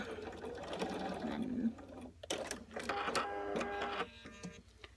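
A sewing machine stitches a quilt seam for a Patty pumpkin pattern in short, close runs of rapid mechanical chatter, with brief pauses between bursts and a voice heard faintly beneath.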